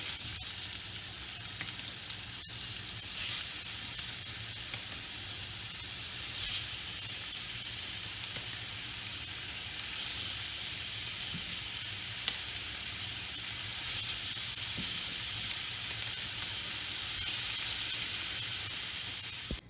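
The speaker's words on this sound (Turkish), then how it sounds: "köftelerimi kızartmaya başlıyorum" Steady, loud sizzling of meatballs frying in a cast iron pan, continuous crackle and hiss throughout with no talking.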